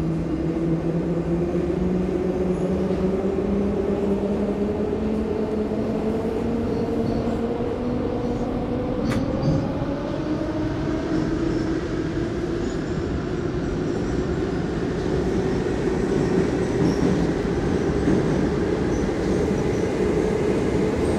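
Subway train from a mobile simulator game running a Moscow line in Minsk, with a steady loud rumble of wheels on rails and a rising motor whine as it moves through the station, continuous throughout.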